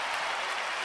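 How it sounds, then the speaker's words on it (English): A livestream audience applauds in a short, steady wash of clapping, with no break over the brief moment. "One more round of applause here, ladies and gentlemen."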